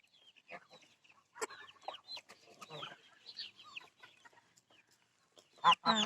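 A young hen clucks in a run of short, irregular calls close by, with scattered louder bursts and a sharp squawk near the end.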